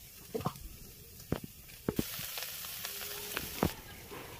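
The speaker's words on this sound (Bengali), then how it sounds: "এখানে দেখতে পাচ্ছ আমার ফুলকপিটা অনেকটা ভাজা ভাজা হয়ে গেছে," Cauliflower frying in oil in a pan after being boiled, giving a low, steady sizzle broken by a few sharp crackles and pops, fairly quiet and alone.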